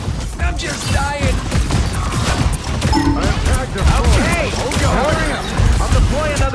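Iron Man's rockets fire in the Marvel Rivals video game as a dense barrage of rapid blasts and crashes over loud, busy game action, with voices talking throughout.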